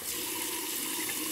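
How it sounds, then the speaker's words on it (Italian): Water runs steadily from a tap to wet a shaving brush, a soft continuous splashing hiss throughout the short stretch, fairly quiet and with no voices. "Acqua."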